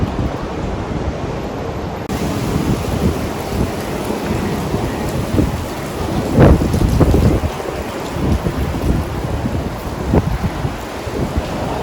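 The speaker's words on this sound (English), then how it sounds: "So you can see there is a sandstorm" Strong sandstorm wind in Dubai roars and buffets the microphone without a break, loud and close, with heavier gusts surging about two-thirds of the way through; no one speaks.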